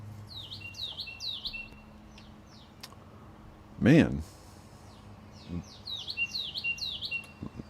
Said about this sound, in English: I'm assuming you can hear the bird.